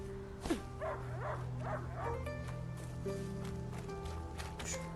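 A dog barks a few times at close range in the video game A Plague Tale: Innocence. The short yelps stand out over a steady hum of game music and ambience.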